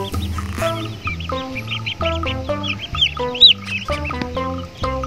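Chickens cluck repeatedly in short, busy bursts close by, mixed with some duck-like quacking and higher chirps, without any talking.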